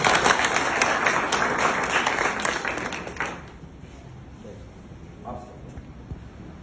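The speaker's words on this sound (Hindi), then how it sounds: "जोरदार तालियां एक बार।" A crowd in a village courtyard claps loudly and steadily for about three seconds, then the applause tapers off into low room noise.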